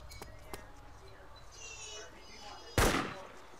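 A single loud close gunshot in the survival game DayZ, sharp and sudden with a brief decaying tail, preceded by faint distant pops and game ambience.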